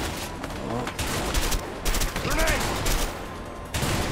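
A grenade launcher fires in a villa shootout in the video game A Way Out, set in Mexico: a run of sharp blasts and crackling bursts at irregular intervals over busy game background sound.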